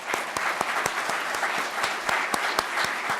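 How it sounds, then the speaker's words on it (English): An audience at an evening program honoring a university president applauds: sustained clapping from a crowd, fairly close, with sharp individual claps standing out over a dense steady patter. "Please join me in another round of applause."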